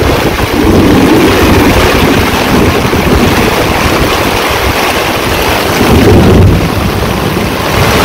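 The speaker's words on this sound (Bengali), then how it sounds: "কঠিন বজ্রপাত হতেছে" Heavy thunder rolls over a village during a downpour, a loud, deep rumble that swells near the start and again toward the end over a constant roar of rain.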